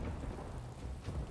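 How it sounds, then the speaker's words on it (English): Rain and thunder spell cast in the video game Divinity: Original Sin 2, a steady wash of heavy rainfall with low rolling thunder rumbling underneath, loud and continuous with no talk. "Rain."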